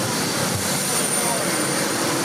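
Loud, steady roar of a private jet's engines at Heathrow airport, heard close up as a continuous broadband rush with a thin high whine running through it.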